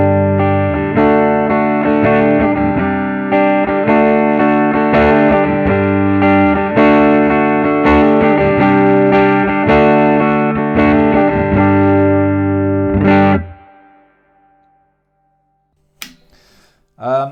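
Electric guitar on the neck pickup through a hand-wired Vyse Renegade tube amp, a sustained loud riff of chords and notes lasting about thirteen seconds, then cut off into near silence before a brief closing noise.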